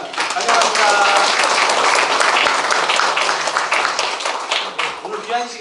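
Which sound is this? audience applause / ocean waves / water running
audience applause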